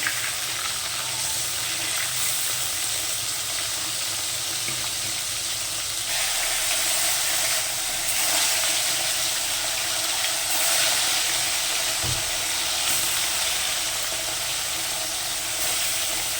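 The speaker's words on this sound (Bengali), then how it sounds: "এই মাছ ভাজা আমি বসিয়ে দিয়েছি।" Fish frying in hot oil in a wok, a broad continuous hiss and sizzle that stays even and fairly loud throughout, with one brief knock partway and no talking.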